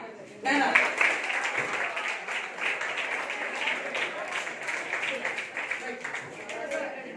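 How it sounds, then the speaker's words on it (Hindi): Classroom applause for a quiz team in a Class 10 Hindi lesson: steady clapping from many students starts abruptly after a brief pause and carries on evenly to the end, with murmured voices mixed in. "तो इनके लिए तालियां।"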